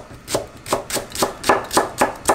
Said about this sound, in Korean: 대파는 이번에는 이렇게 어슷 썰어줄 거예요